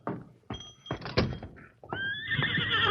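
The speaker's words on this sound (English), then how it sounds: "Here's my horses." A horse neighs in a long, loud whinny at a Western frontier scene, preceded by several dull thunks and knocks like a door and hooves nearby.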